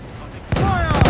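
Enemy cannon fire during a naval battle in the video game Assassin's Creed 4: Black Flag, a sudden loud booming blast after a brief lull, followed by rumbling game sound.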